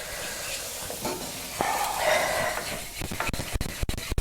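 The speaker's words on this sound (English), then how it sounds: "You just want to keep it well stirred." Flour mixture being stirred slowly in a pot while making coq au vin, a steady scraping swirl with some sizzling, growing busier with sharper knocks toward the end.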